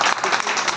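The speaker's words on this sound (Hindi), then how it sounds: "इनके लिए कस के ताली क्या कीजिए।" Audience applause, a short burst of clapping that sounds dense and continuous for under a second.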